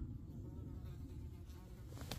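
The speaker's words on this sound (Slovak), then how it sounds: "Ešte komáry ma zase hryzú na nohy pre istotu." Mosquitoes buzzing close by outdoors in Bulgaria, a faint, continuous low hum with no talk over it.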